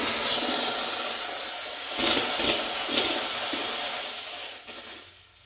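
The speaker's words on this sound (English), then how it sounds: "So purge it by opening it really quickly to get rid of the cold water until you see steam." A Rancilio Silvia espresso machine's steam wand purges with a loud, continuous close hiss of rushing steam and sputtering water that holds steady for several seconds before tailing off quickly near the end.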